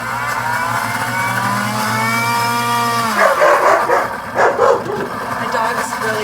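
Dogs bark and yip in several sharp bursts as a deluxe cooking blender's motor hums steadily, then winds down partway through, leaving the barking more prominent over the fading machine noise.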